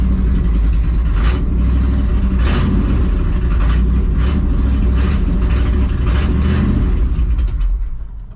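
A 1968 Chevy Suburban engine running rough with a misfire, a loud, close, steady rumble broken by irregular stumbling pulses, fading slightly at the very end.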